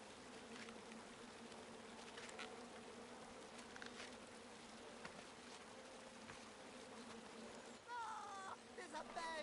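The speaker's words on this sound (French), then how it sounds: "Danger! Danger! Oh, des abeilles!" Steady insect buzzing of bees in the King's Quest video game, a continuous drone with flickering wingbeat texture throughout, joined near the end by brighter chirping tones.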